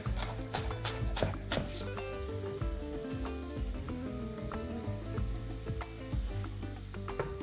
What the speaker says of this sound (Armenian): Կտրատում ենք մանր։